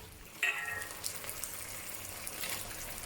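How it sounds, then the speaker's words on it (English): Manchurian chicken sauce, thickened with cornstarch slurry, sizzles and bubbles in a pan while it is stir-fried. The frying noise is close and steady, with a sharp clatter near the start. "Pour in the multicolor bell pepper and keep stirring and frying."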